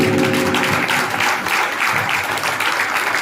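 A congregation claps loudly and continuously at a Thursday prayer meeting, a dense, close roar of hands filling the whole stretch without any speech.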